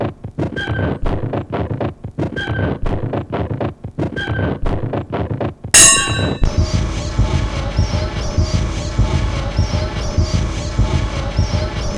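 A chopstick taps a record on a trashed Numark turntable in a repeating hypnotic rhythm of sharp ticks, then a dense scratchy textured loop takes over, close and loud with no talk.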